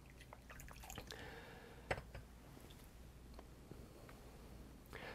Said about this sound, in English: So we're going to pour some tea